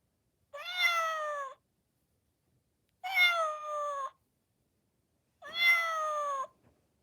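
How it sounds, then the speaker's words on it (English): Trendmaster robotic kitten toy meowing as its belly is stroked: three separate drawn-out synthetic meows, each about a second long, evenly spaced with silence between, clean and close. "you've got a different sort of meow if you stroke it on the belly"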